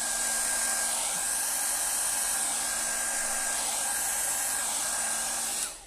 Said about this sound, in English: I do appreciate that the hairdryer can be quite aggressive